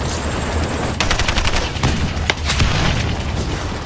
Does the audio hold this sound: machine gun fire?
yes